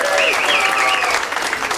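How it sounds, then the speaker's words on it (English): Audience at a surf guitar event bursts into dense, loud applause with scattered cheers and whistles, filling the short stretch close and steady. "Let's give a big round of applause and thanks to our illustrious leader"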